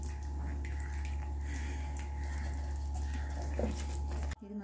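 Ghee poured into a pan of thickening Mysore pak mixture, a steady soft liquid trickle and sizzle under a constant low kitchen hum, faint and close, ending abruptly.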